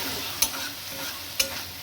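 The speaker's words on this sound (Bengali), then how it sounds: "খুব ভালো করে নেড়ে নেবো চিংড়ি মাছের সাথে মিশিয়ে।" Taro greens and prawns stirred in a pan, with two sharp spatula scrapes over a quiet, steady sizzle; brief and close.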